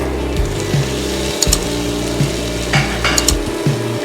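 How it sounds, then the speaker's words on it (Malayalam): Mushroom masala with chopped tomato is sautéed and stirred in a pan, giving a steady close sizzle with repeated scraping strokes of a spoon across the pan. "ഇനി ഇതൊന്ന് നന്നായിട്ട് വഴറ്റിയെടുക്കണം"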